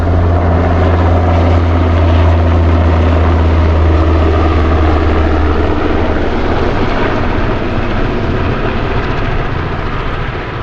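An aircraft passes overhead during an air show at Peggy's Cove, a loud, steady propeller and engine roar that fills the whole stretch and changes tone partway through as it flies by.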